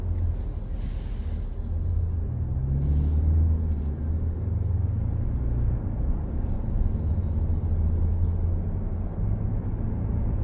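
Road noise inside a 2024 Toyota Land Cruiser on a test drive: a steady low rumble of tires and engine holds throughout, with a few faint brief clicks, and no one speaking.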